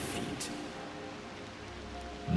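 Steady rain falls in the video game Wild Hearts, a continuous broadband hiss of drops with a few louder splashes near the start and a low rumble swelling at the end.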